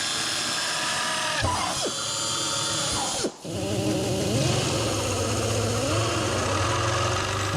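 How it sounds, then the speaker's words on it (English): A power drill whines loudly and steadily, its pitch dropping briefly as it bites into metal spot welds, then running on. "I'm going to drill a few undersize and show you what I'm talking about."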